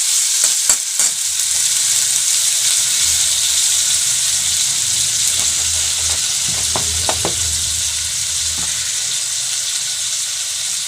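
Water goes into a soybean masala in a hot pan, and a loud, steady sizzle and hiss carries on throughout, broken by a few sharp clicks and stirring knocks partway through, no speech.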